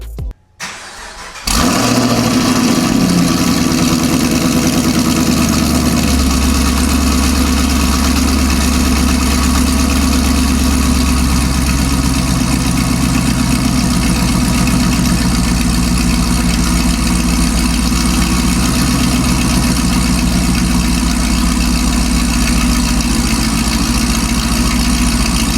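Camaro ZL1 V8 fitted with long tube headers idles after a cold start, a loud, steady deep rumble that settles in after a brief start-up burst and holds continuously with no talking.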